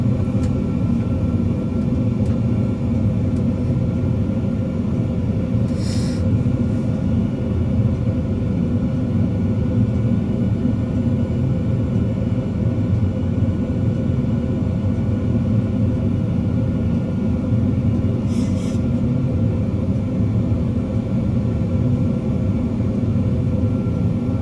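An airliner on landing approach with its landing gear down, heard as a loud, steady low rumble of engine and airflow that holds unbroken, with a couple of brief high tones in the background.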